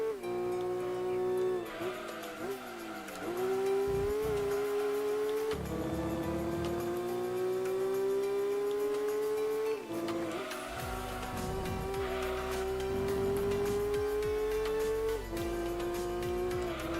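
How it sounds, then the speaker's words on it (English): Ferrari engine in Gran Turismo 2 racing hard, a loud steady high-revving drone that climbs through gears with brief drops at shifts, continuous for the whole stretch with faint tyre noise underneath. "And this Ferrari is pretty good"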